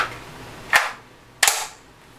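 Two sharp metallic clacks of a new-production Bulgarian magazine snapping into a DDI milled AK-47, spaced under a second apart, close and crisp with quick decays.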